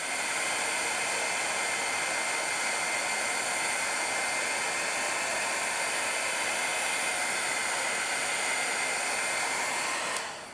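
A heat tool blows a steady, loud whoosh of hot air while melting embossing powder on a doily, running constantly up close until it cuts off at the end.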